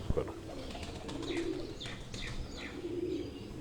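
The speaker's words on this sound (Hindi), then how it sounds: "ये उनके ब्रीडर कबूतर आपको दिखाए जा रहे हैं" Breeder pigeons at a pigeon keepers' gathering cooing softly in low repeated rolls, with a steady crowd murmur behind them.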